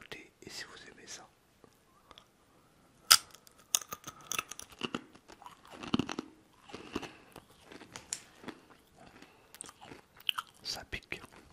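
Crunchy wasabi peas bitten and chewed very close up, sharp crackling crunches in irregular bursts with quiet moments between and soft whispered speech.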